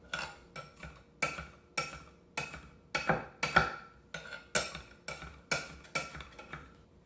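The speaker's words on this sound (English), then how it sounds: "Then you can just go back and forth with your knife until you get them finely cut." A knife chops shallots finely on a cutting board, giving a quiet, steady series of crisp taps in quick, slightly uneven rhythm, close up and with no talk.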